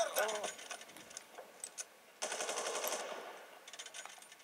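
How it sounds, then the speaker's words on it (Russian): Gunfire in the video game Far Cry, rapid bursts of automatic fire with a sharp rattling texture, fairly faint, with a brief pause between volleys and soft background game sounds. "Я ведь тоже буду стрелять на поражение"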